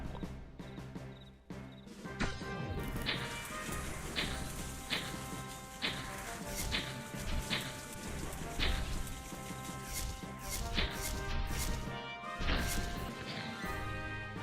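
Hail spell in Mage's Initiation: a rapid, steady barrage of hard cracking and smashing impacts like ice pelting, continuous and fairly loud for the whole stretch.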